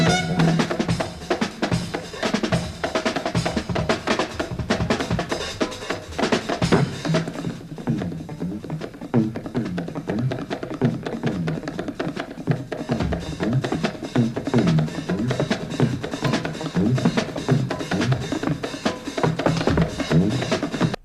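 Fretless bass playing: fast, busy bass lines inside a dense full-band jazz-fusion mix with drums and keyboards, steady and loud throughout.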